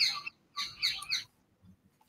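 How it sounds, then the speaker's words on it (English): Tropical bird sound effect in a Scratch coding project: a few short bright chirping calls in two quick bursts, fairly clear and close, followed by a quiet tail with faint low background noise. "I love that tropical birds noise."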